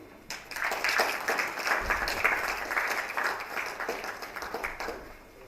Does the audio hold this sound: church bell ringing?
no